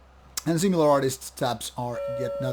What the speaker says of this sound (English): Pardon for the doorbell suddenly sounding here.